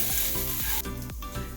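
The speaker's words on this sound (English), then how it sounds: "I'm scraping the bottom in case anything sticks." A pan of aloo gobi, potatoes and cauliflower, sizzles faintly while a utensil scrapes across the bottom in a few short, rhythmic strokes.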